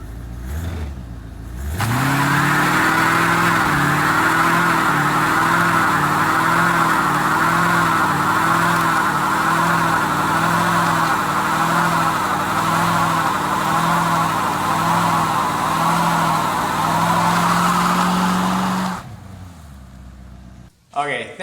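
An abandoned 1985 Corvette, roused after three years sitting in a garage, idles loudly and close with a rough, steady engine drone that swells slightly in waves, then cuts off abruptly near the end.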